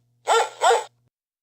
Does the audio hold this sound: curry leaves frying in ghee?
no